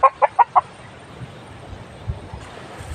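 Four quick clucks from a chicken close by at the start, then low background noise with faint rustling.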